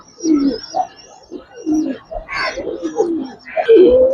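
Coloured and silver Giribaz pigeons coo in low, throaty, repeated phrases close by, with some higher chirps and a louder coo near the end, no talk.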